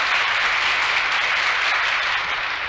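Theatre audience applauding the conductor before a musical comedy performance, a broad, even wash of clapping from many hands that holds steady throughout.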